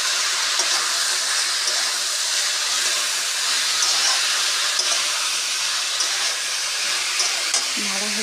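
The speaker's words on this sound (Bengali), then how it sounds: "তারপর ভালোভাবে নেড়ে" Egg chowmein being stirred in a pan hisses with an even, dense sizzle, with soft utensil movements barely standing out and a brief low sound near the end.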